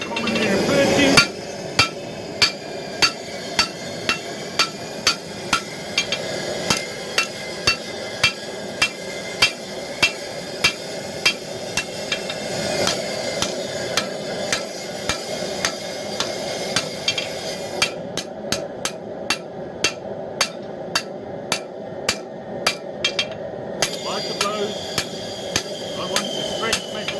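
Steady, evenly spaced hammer blows ring out as a blacksmith forges a hunting knife, tapping its tang against the horn of an anvil. The strikes are sharp and metallic, repeating for a long stretch at a brisk, regular pace.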